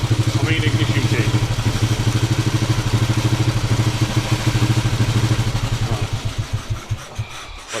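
A Norton Model 50 single-cylinder motorcycle idles close by with a steady, rapid thumping beat and mechanical clatter. Near the end it slows and dies away after being switched off.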